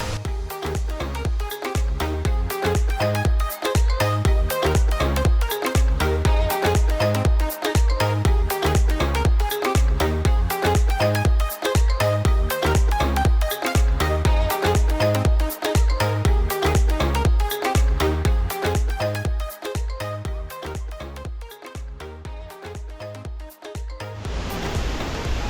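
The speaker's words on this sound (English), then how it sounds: "finishing off with the most iconic of waterfalls in the Tablelands, old Milla." Millaa Millaa waterfall in the Atherton Tablelands roars as a steady, loud rush of falling water, a dense unbroken wash that holds for the whole stretch with no voices.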